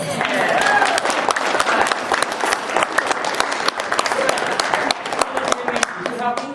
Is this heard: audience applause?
yes